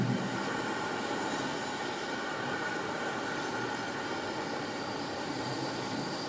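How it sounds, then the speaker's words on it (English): Helicopters approach with a steady, dense rotor and engine drone that holds at an even, moderate level throughout, with no voices. "The others are approaching with their helicopter pilots."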